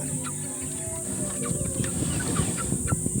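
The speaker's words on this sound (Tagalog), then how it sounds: "Ito nga pala yung manok ko." Chickens cluck softly and intermittently nearby, with some low rustling and a steady high background hiss.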